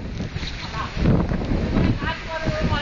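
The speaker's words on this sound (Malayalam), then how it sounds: "കാറ്റ് വന്ന്" Wind gusts blowing steadily against the microphone on the hill of Paithal Mala, a broad rushing roar that swells around the middle and continues throughout.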